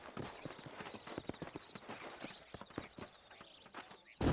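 Horses trot in the Red Dead Redemption game, their hooves clip-clopping in a steady rapid rhythm near and fairly loud, with a faint whinny and a sharp burst of sound at the very end.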